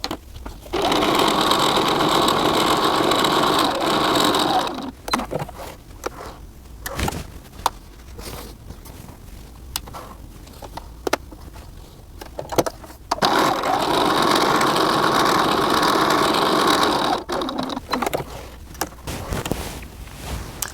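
Sewing machine stitching across doll dress fabric, running loud and steady in two long bursts with a quieter pause of clicks and handling between them, no talk.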